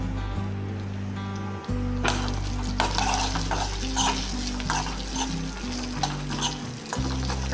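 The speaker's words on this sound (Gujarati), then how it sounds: "કાજુને હવે આપણે કઢાઈમાં એડ કરી દઈશું. કાજુને આપણે રોસ્ટ કરી દઈશું." Cashews roast in half a spoon of oil in a kadai while being stirred, giving a steady loud sizzle with scraping stir strokes throughout, no voices over it.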